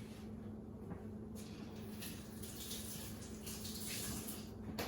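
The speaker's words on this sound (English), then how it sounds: "Rinse off the knife so that we don't get all that stuff into the hopefully good onion." Tap water runs steadily into a kitchen sink as a knife is rinsed off during onion prep, a continuous close splashing wash with no talking over it.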